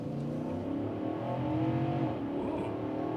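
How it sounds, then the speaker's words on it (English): Full-size SUV with a V8 engine floored from a standstill while merging onto a highway, its steady rising engine drone and road roar heard from inside the cabin, with no talking. "Let's floor it"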